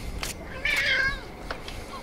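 Cats meowing in the video game Shadow Warrior (2013): a clear, drawn-out meow in the middle, with shorter cat calls around it over a low game background.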